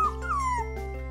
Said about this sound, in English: I've caught a dog!